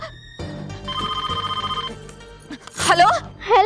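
A telephone rings in a tonal, warbling burst indoors, trailing off before brief rustles, then a voice starts speaking over the end.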